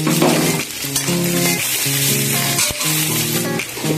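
Onion and green chillies hitting hot oil for chowmein, a loud close sizzle and crackle throughout, with tonal stirring or clinking patterns running underneath and no talk.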